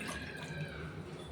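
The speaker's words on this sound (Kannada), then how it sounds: "ಅದಕ್ಕೆ ಇವಾಗ 4 ಗ್ಲಾಸ್ ನೀರು ಹಾಕ್ತೀನಿ" Water poured from a glass onto rice in a cooking pot, a soft steady trickle and splash that runs alone and fairly quiet for a moment.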